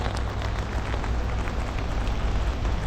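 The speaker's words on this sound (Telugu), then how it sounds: "దారుణంగా పడుతుందండి వాన," Heavy rain drums on a tent in a dense, continuous hiss and patter, loud and close, with no voices.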